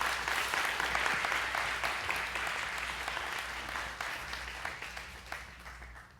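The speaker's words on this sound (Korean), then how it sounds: "우리 박수로 사랑합니다 하는 마음으로 모시겠습니다" A congregation at a Wednesday church prayer meeting breaks into warm, sustained applause to welcome pastor Mun Seong-eun, with dense clapping that slowly fades out.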